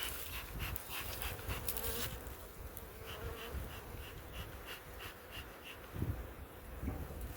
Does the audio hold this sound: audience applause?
no